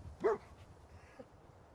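Dogmeat, the dog companion in Fallout 4, gives one short bark near the start and a faint second yip later, over quiet in-game ambience.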